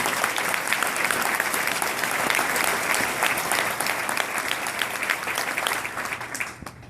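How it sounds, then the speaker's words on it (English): A dense, steady round of applause from an audience at a governor's breakfast, many hands clapping together for several seconds before tapering off near the end. "I think you guys deserve a round of applause as well."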